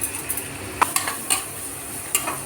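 Onions and salt being stirred in a pan for Palakkad Rawther biryani, with a soft sizzle beneath a few sharp scrapes and clinks of a spoon against the pan.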